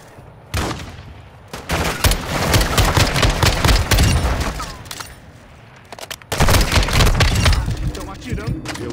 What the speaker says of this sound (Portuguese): Estão atirando.